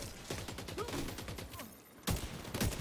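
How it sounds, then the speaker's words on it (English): Gunfire in the shooter video game Division 2 comes as rapid bursts of cracking shots, a short lull, then another loud volley close up. "Sniper rifle."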